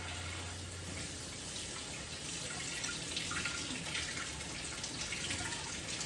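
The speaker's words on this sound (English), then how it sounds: "I'm gonna get my hands washed and then that chicken juice cleaned up" A kitchen tap runs steadily into a sink while hands are washed after handling raw chicken, a continuous close hiss of flowing water with no talk over it.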